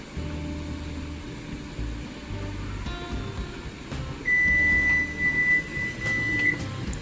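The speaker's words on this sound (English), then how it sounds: "the timer went off" A kitchen timer goes off during water bath canning of pickles, a sustained electronic tone lasting about two seconds over a low background hum of the kitchen, with no speech.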